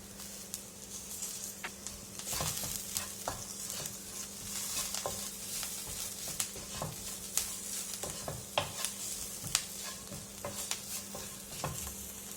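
Sautéed okra and curry leaves are stirred in a frying pan for an okra coconut-milk curry, giving a steady, close sizzle broken by irregular scrapes and clicks of the spoon, with no talking.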